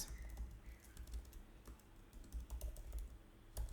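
Typing on a computer keyboard: a quick, uneven run of close key clicks and taps, quiet and isolated, with short gaps between bursts.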